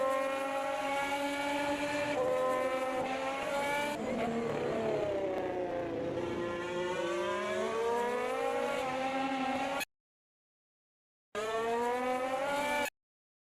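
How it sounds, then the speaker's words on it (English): A GP2-spec race car engine in an F1 racing video game, loud and steady with rising and falling revs through gear changes, cutting out briefly before returning near the end. "GP2 engine, GP2 engine."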